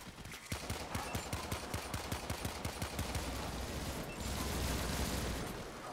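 Gunfire in the game Warframe, a long run of evenly spaced rapid shots like an automatic weapon, steady and fairly loud for several seconds before giving way to a rushing noise.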